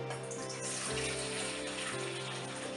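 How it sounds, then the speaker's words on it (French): Hot water pours steadily into a large bowl while a homemade dishwashing liquid is being prepared, a continuous close splashing rush that runs the whole time without any talk. "j'ajoute un petit peu d'eau chaude dans le grand bol"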